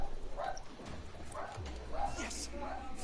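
Dog Simon barks in World War Z's Moscow zombie level, a few short yips and woofs spread across a few seconds amid game ambience and voices talking over it.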